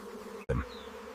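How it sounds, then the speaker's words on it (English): Wild honeybee colony hanging high above the mangrove forest floor in the Sundarbans, a faint steady buzzing hum broken by one brief cut and a low thump, with no talking. "A large wild honeybee colony hangs high above the forest floor."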